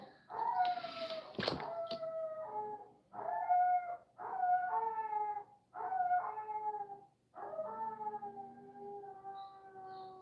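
Duke, a dog, howls in long, wavering drawn-out wails, five or six separate howls one after another, close and loud, with a sharp bark or yelp early on and no talking.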